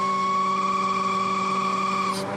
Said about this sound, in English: That's the relief valve operating,